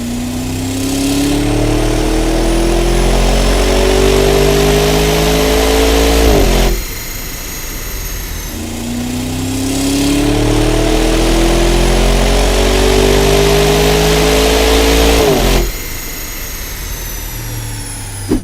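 A performance SUV on a dyno makes two full power runs, the engine note climbing steadily in pitch to a loud howl before cutting off sharply, each pull followed by a quieter idle; no one speaks.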